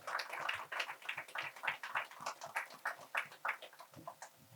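Audience applause for three performers at a hip-hop music event at Culxr House, a dense, steady wash of many hands clapping at moderate distance, continuous throughout with no voices.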